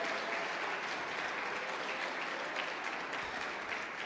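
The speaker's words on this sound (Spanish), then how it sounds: "Si le va a dar una ofrenda al Señor con sus palmas, désela fuerte, désela fuerte." A church congregation claps loudly and steadily during a conference service, a dense unbroken wall of applause from a large crowd lasting several seconds, with no clear speech over it.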